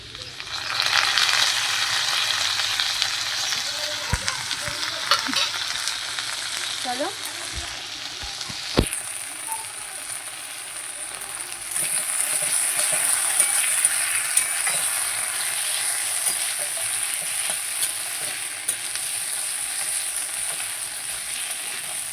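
Ginger-garlic paste hits hot oil in a pan with fried potatoes and onions and sizzles loudly, with occasional scrapes of stirring; the frying settles into a steady crackle, no voices.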